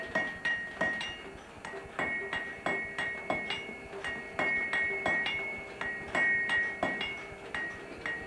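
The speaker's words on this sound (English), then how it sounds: "By hammering the bloom to drive out the slag, a blacksmith could eventually create a bar of almost pure wrought iron." A blacksmith hammers an iron bloom to drive out slag, producing a regular series of sharp, ringing metallic strikes about twice a second, close and loud.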